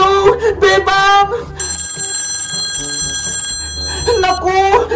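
A telephone rings on and on with a steady bright electronic trill, loud and close, with nobody picking up, while excited voices shout before and after the ringing.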